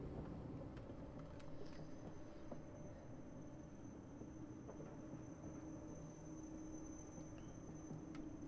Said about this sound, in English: That is a commuter train.